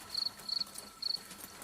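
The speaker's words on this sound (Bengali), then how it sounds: "শুধু ঝিঝি পোকার ডাক" Crickets chirp at night in short, rapid pulsed bursts, three trills repeating at a steady pace, faint and distant against a quiet background.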